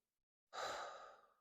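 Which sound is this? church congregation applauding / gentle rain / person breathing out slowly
person breathing out slowly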